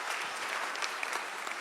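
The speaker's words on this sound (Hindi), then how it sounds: "उनके लिए ताली बजाइए।" An audience at a government workshop on the development of animal breeds in India applauds, producing a dense, uniform wash of clapping from many hands, moderately distant and steady throughout, with no voice over it.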